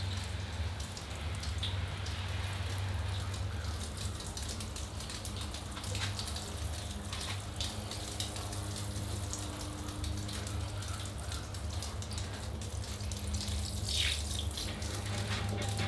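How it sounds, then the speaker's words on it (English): Water is poured over a potted bonsai ficus and drains through the soil onto gravel below. The result is a continuous close patter and trickle with a steady low hum underneath and no talking. "All right, time for the ficus to get some water."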